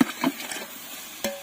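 Egg fry being stirred in a pan, with a few soft scraping strokes and a light sizzle, then a sharper metallic clink near the end; quiet and close, with no talk.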